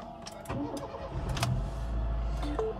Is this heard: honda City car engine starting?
yes